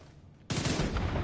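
A sudden burst of rapid gunfire in the shooter video game The Division 2 erupts after a quiet moment and continues as a dense, fairly loud volley.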